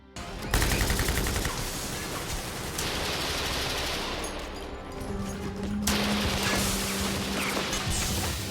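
Dense, rapid gunfire from an action film battle scene: sustained bursts of automatic shots with crashing impacts, loud and close, with no talking.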